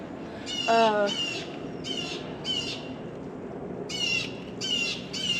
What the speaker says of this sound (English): That old crow is loud.